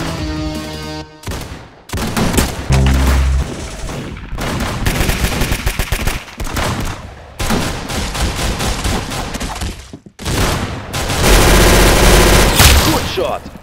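Dense, loud bursts of gunfire from a shooting video game, rapid automatic volleys and single heavy shots in close succession with brief gaps, mixed with game sound, and a voice talking over it.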